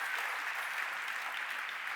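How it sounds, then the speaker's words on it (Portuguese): A church congregation applauds for Jesus during a Portuguese-language sermon, producing steady, dense clapping that holds even and fairly loud for the whole stretch, with no speech over it. "Você pode dar uma salva de palmas ao Senhor Jesus por causa disso."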